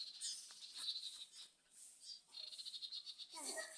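Parent birds fly about near their young, giving a busy stream of thin, high chirps and short calls that come and go close by without pause, with no talking.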